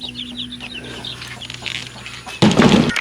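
Young chicks in a new coop give bright high chirps and peeps in a busy scattered chorus, with a louder burst of calls near the end and a faint steady hum underneath.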